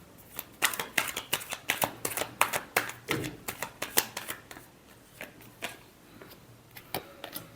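Tarot cards being shuffled in quick, crisp riffling bursts that repeat steadily for several seconds, close and fairly quiet with no talking.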